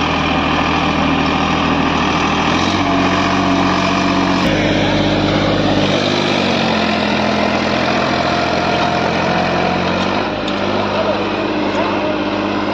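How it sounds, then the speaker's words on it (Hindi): A Massey tractor pulling a 9x9 harrow drones steadily and loudly throughout, a continuous heavy mechanical rumble with slight shifts in pitch as it works, voices faintly beneath. "ट्रैक्टर की परफॉर्मेंस देख सकते हैं"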